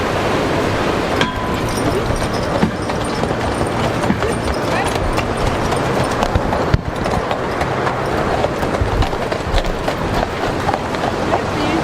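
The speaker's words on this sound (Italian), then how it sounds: "3 cavalli da tiro con un carro enorme pieno di gente pesante" A huge carriage packed with people and pulled by three draft horses clops along a road in Val Roseg in the Swiss Alps; steady hoofbeats and rolling wheels sound close and continuous under a busy outdoor wash.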